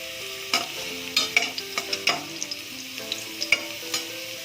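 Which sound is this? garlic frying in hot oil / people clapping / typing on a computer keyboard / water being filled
garlic frying in hot oil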